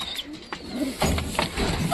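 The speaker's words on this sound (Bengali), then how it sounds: "এই যে কবুতরটার বাচ্চা, আর এই যে কবুতরটা চলে আসছে।" A pigeon returns to its chick, giving soft low coos and faint rustling nearby, partly under a person's talking.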